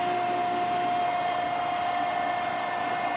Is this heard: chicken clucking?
no